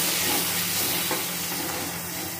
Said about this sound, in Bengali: একটু জল দেবো, একটু কষাবো, একটু মিশিয়ে দেবো।